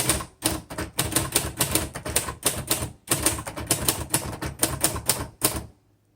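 A pink and gray 1961 Royal Futura 800 manual typewriter clatters in rapid bursts of keystrokes with brief pauses, loud and close, ending in silence.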